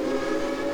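A WVRR 2-8-2 steam locomotive whistle in the Trainz 2019 train simulator blows a loud, steady, breathy chord-like tone that sounds alone and close.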